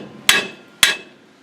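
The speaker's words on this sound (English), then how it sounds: "So we're going to take our handy hammer" Two sharp metallic hammer strikes on a rear brake drum of a Ford F-150 pickup, about half a second apart, each ringing briefly before fading.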